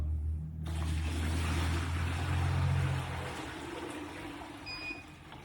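Steady rushing flow of water pouring into an auxiliary tank at a gas station, loud and continuous with a low rumble, easing off partway through, followed by a faint high beep from the tank's fill sensor.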